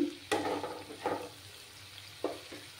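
A spice masala cooks in a pan, with a faint sizzle under a few distinct spatula scrapes spaced apart, quiet and close, no voices.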